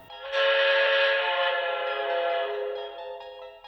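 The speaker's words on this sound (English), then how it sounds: "You hear a whistle." A train whistle on a model railroad blows as one long, loud, steady harmonic blast that swells quickly, holds for about three seconds, then fades, with no talking.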